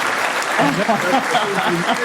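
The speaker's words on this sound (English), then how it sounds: "let's do this round of applause" Steady applause fills the whole stretch at an even level, with a voice talking over it at times.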